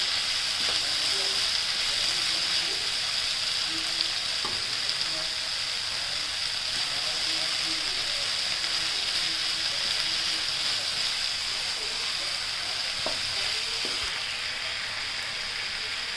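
Spinach and potatoes sautéing in a pan for a dry aloo palak dish, a steady soft sizzle and hiss running evenly throughout with faint scattered clicks, no voices.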